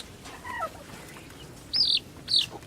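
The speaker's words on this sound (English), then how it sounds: "Naked Neck Turkey Chicken." A Naked Neck Turkey chicken on a homestead gives a few short, high clucks, two of them sharp and close, over quiet background noise.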